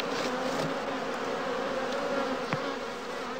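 Honey bees hum in a steady, close swarm buzz around a straw skep hive at a heath apiary, with a faint tap partway through and no speech.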